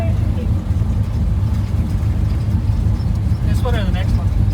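A big block 632 V8 street car, fitted with a 4L80E automatic, rumbles steadily and loudly as it drives down the road, with a constant deep engine drone and a brief bit of voice near the end.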